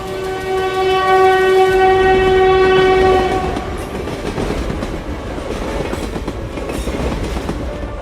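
A French troop train carrying soldiers and explosives pulls away from Modane station on a mountain line: a loud sustained horn blast opens, then gives way to steady rumbling and clattering wheels as the train rolls on.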